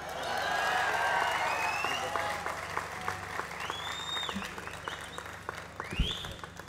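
Audience applause at a speech, loud and dense clapping at first that gradually thins and fades, with a voice speaking briefly near the end.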